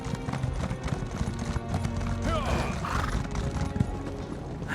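Horse hooves clip-clop steadily at a riding pace in Elder Scrolls Online, with an occasional whinny, over a dense game soundtrack and some speech.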